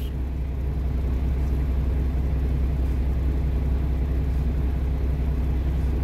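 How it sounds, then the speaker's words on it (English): Deep, steady engine rumble as fire trucks arrive at a burning FedEx truck on the westbound I-270 highway, a constant low drone with no sirens or horns standing out. "Here comes two more fire trucks."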